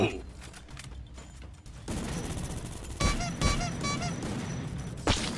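Shotgun blasts ring out in a Free Fire match, with heavy booms rising over a noisy game mix of mechanical clatter and other gunfire. A voice talks underneath.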